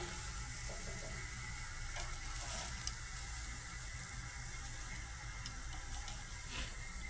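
Food sizzling steadily on a grill, a constant close hiss and crackle that keeps going without a break, with no voices over it.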